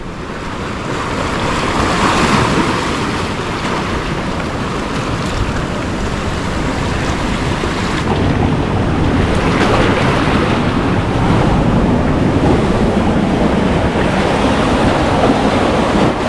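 Ocean surf rolls in at Blackhead Beach, NSW, Australia, among the rock formations at high tide. Continuous loud wave wash is mixed with gusty wind buffeting the microphone, and no one speaks.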